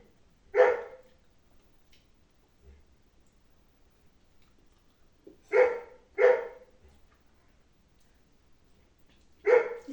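Several dogs bark in short bursts from inside a veranda, with a single bark at the start, a quick double bark mid-way and another at the end, separated by quiet.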